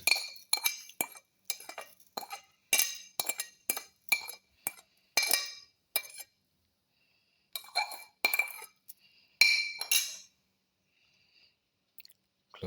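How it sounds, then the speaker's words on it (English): Apple pieces and sugar dropped into a grinder jar for a dragon fruit apple smoothie, giving a run of sharp clinks and knocks against the jar in quick bursts, a pause, then more close clattering. "Put in apple and put in the sugar."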